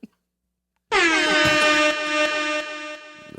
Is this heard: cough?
no